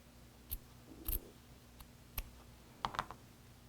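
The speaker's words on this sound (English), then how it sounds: "I'm using some thin-bladed scissors so that I don't actually cut into the" Thin-bladed scissors snip fabric to open a bound buttonhole, making a few faint, sparse clicks and short cuts that are close by and quiet, with no talking.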